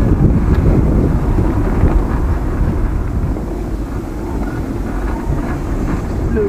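Steady wind buffets the microphone beside a lake, a loud, low, continuous rumble that holds for the whole stretch with no voices over it.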